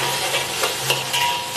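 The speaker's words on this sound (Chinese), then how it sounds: "香蒜米下锅" Garlic and ginger hit a hot wok for a Sichuan dish, giving a loud, close, continuous sizzle with a few quick stirring scrapes and no voices.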